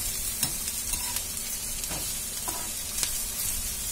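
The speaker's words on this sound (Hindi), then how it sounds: "हमने प्याज को अच्छे से लगातार चलाते हुए हल्का हल्का भून लिया है" Onions fry in a pan for a raw mango curry, a constant sizzle broken by several sharp spatula scrapes and knocks as they are stirred, close and unaccompanied by talk.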